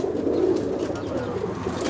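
Pigeons cooing in a loft, a steady low murmuring coo that runs continuously and fairly close throughout, with no talk over it.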